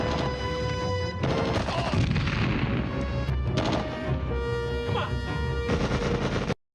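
Dense, continuous gunfire and booming cannon fire from a film battle as soldiers flee pursuing enemies toward a boat, loud and chaotic throughout before cutting off abruptly at the end.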